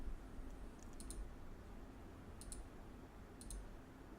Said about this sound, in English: I'm going to try typing in 16 and see what it finds